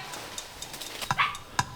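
Hunting dogs chase lizards in rural Indonesia, giving several sharp barks and yips at middle distance, scattered irregularly over a quiet outdoor background, with no talking.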